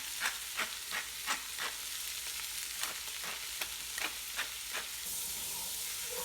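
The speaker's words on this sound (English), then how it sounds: "And we're just going to keep giving this kind of a stir. Get this corn going." Corn and tomatoes frying in a pan for summer shrimp scampi, sizzling steadily while a spoon stirs through them in repeated scraping strokes, close and fairly quiet.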